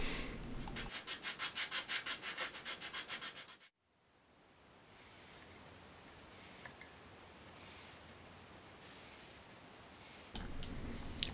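Sanding a wooden commander sleeve for Magic cards with a card fitted inside: a close, steady run of rapid rhythmic rubbing strokes, then a pause of quieter rasping, and a brief burst of sanding again at the end.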